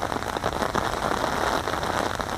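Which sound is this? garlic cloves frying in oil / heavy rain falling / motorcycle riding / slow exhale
heavy rain falling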